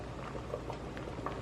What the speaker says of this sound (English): I've got these cobs boiling